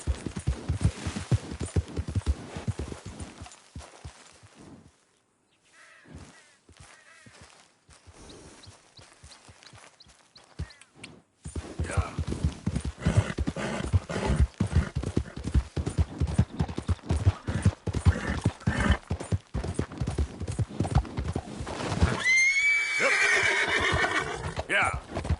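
A horse in the Red Dead Redemption 2 video game, rhythmic hoofbeats pounding through most of the stretch with a brief lull, ending in a loud whinny; a person talks now and then over the game sound.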